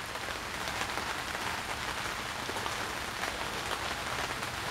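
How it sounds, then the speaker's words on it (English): Heavy rain pours down onto a small tent canopy, a dense, steady hiss of drops close overhead that never lets up. "good thing we got this little tent thing right here, because it is pouring down rain"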